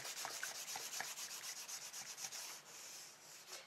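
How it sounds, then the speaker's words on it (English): Wild Honey distress stain rubbed back and forth on journal paper makes a rhythmic scratchy swishing, a quick run of close strokes that slows and softens toward the end, with no voices. "I'm rubbing it back and forth, as you can see, to get the color to seep in"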